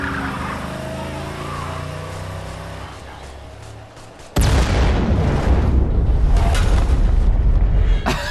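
A sudden, loud, broadband blast from a car exploding in the video game Wolfenstein: The New Order hits midway through, followed by a sustained roar of fire and rumbling debris, preceded by quieter game ambience.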